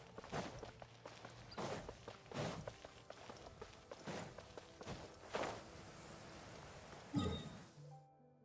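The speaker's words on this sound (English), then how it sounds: "Taking a stroll in the middle of a downpour." Footsteps splash through a heavy rain downpour in the video game Genshin Impact, a steady run of about eight or nine paced steps over a constant hiss of rain, alone and fairly close, with a heavier thud near the end.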